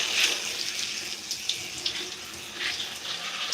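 Tap water runs steadily while curly hair is rinsed and saturated during a wash-and-go routine, a continuous close hiss with small splashy surges and no voices.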